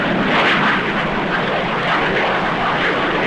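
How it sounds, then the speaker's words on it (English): A WWII-era propeller airplane drones steadily overhead, a loud continuous engine roar with no voices. "Hey, look! Airplane!"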